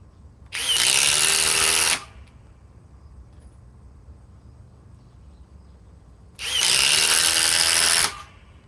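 Two loud, steady bursts of a DeWalt 860 cordless impact driver running, each about a second and a half long, separated by several seconds of quiet room tone.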